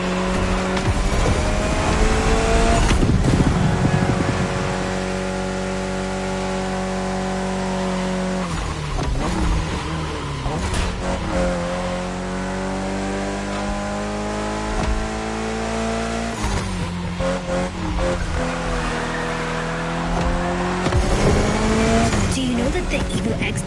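Mitsubishi Evo X race car in The Crew Motorfest on PS5, its engine droning loud and close and climbing through repeated gear changes, with intermittent tire noise and a voice talking over it.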